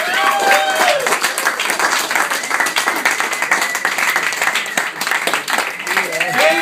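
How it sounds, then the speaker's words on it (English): An audience at the Comedy Store, a comedy club, claps and cheers in loud, dense applause that holds steady throughout, with a few whoops rising out of the crowd noise. "Give a nice round of applause."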